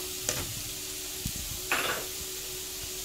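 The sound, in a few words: onion and diced chicken breast frying in oil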